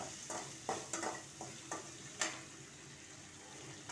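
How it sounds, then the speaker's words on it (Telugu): Chopped potato fries in a pan with a faint, soft sizzle broken by a few light stirring scrapes and taps. "ఒక బంగాళదుంప తరిగించాను, అది వేసాను. కొంచెం వేగనిస్తాను."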